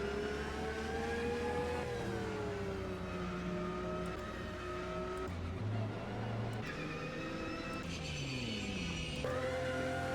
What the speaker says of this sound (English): Very different engine noises as well, as you can clearly hear.